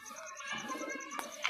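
Racing pigeons bred for aerial tumbling in Rajshahi coo softly close by in a short, quiet burst of low rolling calls, alongside a faint repeating high chirp and a brief clatter near the end.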